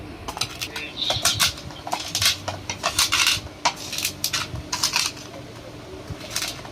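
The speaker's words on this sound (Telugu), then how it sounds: "ఇలాగా పప్పు గుత్తితో ఇలా బద్ద చేసుకోవాలండి" Moong dal being mashed and broken with a wooden dal masher in a metal vessel, giving repeated sharp clinks and knocks in an uneven rhythm, close and fairly loud with no talk.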